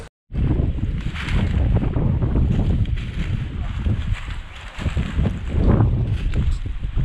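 Wind buffets the microphone in loud, gusty rushes that rise and fall, with a short silence at the very start.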